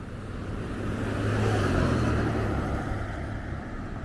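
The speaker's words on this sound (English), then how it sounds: "A little bit busy at the moment in the traffic circle." Cars pass through a traffic circle, a broad engine and tire rumble that swells as a vehicle goes by close at mid-clip and then eases off, with no voices.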